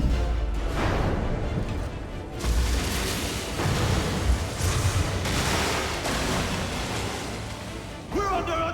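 Cannon fire in a naval attack in Assassin's Creed III: heavy booms and crackling volleys pile up in a loud, sustained barrage, with shouted game voices mixed in.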